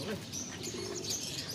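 Pigeons at a pigeon club coo faintly, with soft chirps and some background voices over a brief stretch.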